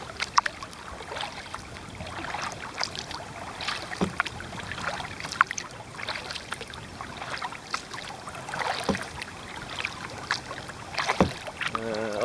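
Canoe paddle strokes dipping into calm water, a steady series of soft splashes and drips at close range with light wind noise in the background, no voices.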